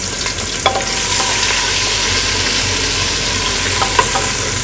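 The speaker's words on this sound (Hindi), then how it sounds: "बाकी मैं लहसुन अदरक का पेस्ट, सारा लहसुन अदरक और हरी मिर्चें जो मैंने पीस के रखी हुई थी," Garlic ginger paste and ground green chillies fry in a pot with a steady, loud sizzle, and a spoon clinks a few times as the mixture is stirred.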